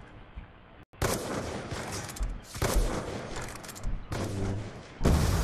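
Dense bursts of gunfire crackle in rapid volleys with heavy booms, separated by short gaps, loud and continuous like a game firefight.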